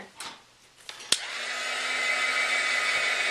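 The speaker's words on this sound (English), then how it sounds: "We got to dry these first because otherwise the colors will blend together." A hair dryer blows to dry wet paint in a mixed media notebook, starting after a few clicks and knocks and then running as a loud, steady whoosh to the end.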